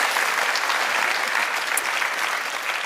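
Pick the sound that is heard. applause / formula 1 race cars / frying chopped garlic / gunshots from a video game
applause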